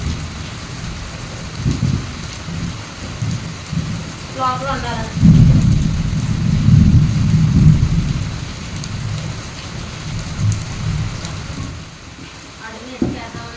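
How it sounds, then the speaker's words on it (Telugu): Heavy rain pours steadily while low rumbles of thunder roll through the middle; someone talks intermittently over the downpour. "లోపల సూపర్గా వర్షం వచ్చేసింది"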